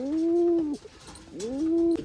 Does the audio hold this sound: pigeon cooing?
yes